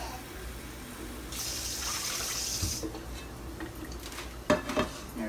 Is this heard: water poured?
yes